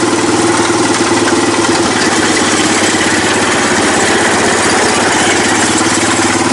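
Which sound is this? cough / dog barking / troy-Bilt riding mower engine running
troy-Bilt riding mower engine running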